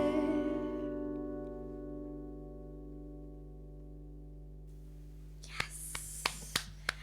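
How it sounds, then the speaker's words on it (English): A lone person claps five times, crisp and evenly spaced, close by in a quiet room just after a song's final notes fade away. "I know it's just my applause here"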